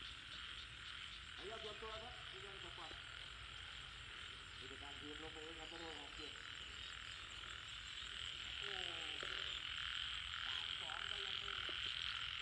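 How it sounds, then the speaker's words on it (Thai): Frogs croak in short rhythmic bursts over a steady, dense chorus of high-pitched insects or frogs, outdoors in rice fields, with brief calls repeating every few seconds. "แต่นี้เสียงกบเสียงเขียด"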